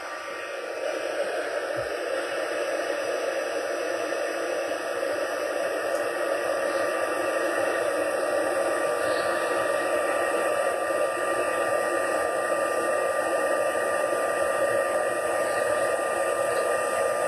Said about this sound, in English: So I'm just going to heat emboss this.